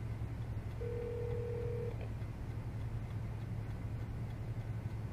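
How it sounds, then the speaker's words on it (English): A rotary telephone rings in the Metal Gear Solid: Snake Eater video game: a single steady electronic ring tone lasting about a second, heard clearly over a constant low background hum. "I hear a rotary phone."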